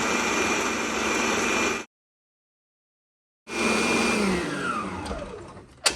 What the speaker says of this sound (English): Whisk, and we're gonna beat it on high.